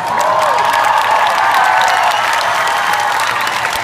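Loud, sustained applause and cheering from a large arena crowd at a concert, continuous and dense throughout without a break.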